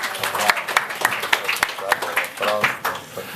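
Audience applause at a professional conference, a brief burst of scattered hand claps with uneven, irregular hits, fairly close, with voices talking over it.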